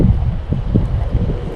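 Wind blowing outdoors by a pond on a sunny day, buffeting the microphone with low rumbling gusts, steady and close, with no talking.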